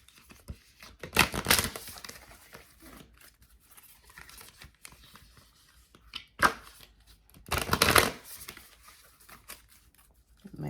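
Oracle cards shuffled by hand in a quiet room, with two louder bursts of riffling and scraping card noise and fainter, scattered shuffles between them.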